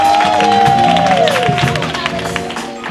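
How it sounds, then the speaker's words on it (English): A live show audience applauding and cheering for birthdays, a crowd's clapping running under a loud voice and tonal sounds, gradually thinning toward the end. "Give a round of applause for that."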